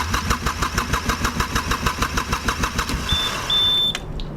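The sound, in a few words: marine diesel engine cranking but not firing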